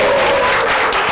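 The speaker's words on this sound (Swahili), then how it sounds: "Wapi makofi yao?" Studio audience applause for guests on a Kenyan talk show, a dense, steady wash of clapping close up, running unbroken and evenly loud throughout with no talk over it.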